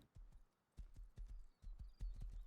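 Horse hooves clip-clopping in the video game Rust, a steady rhythmic gait of close, dull thuds repeating in quick pairs.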